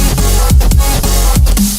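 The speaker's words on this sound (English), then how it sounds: "That's why this sounds so glitchy." Electronic dance music with a glitch effect plugin switched on, producing choppy stuttering repeats and abrupt pitch-swept cuts across a dense, loud mix throughout.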